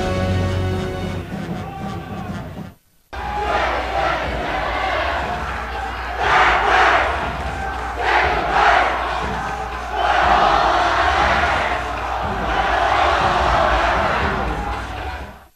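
Crowd in a gym at a girls' state championship volleyball final cheering loudly, with sustained roars and rising bursts of shouting, after a brief near-silent gap at the start.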